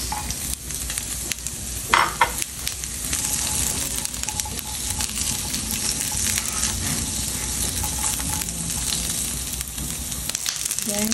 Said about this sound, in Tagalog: Lagay tayo ng mantika sa wok. Igisa ang sibuyas.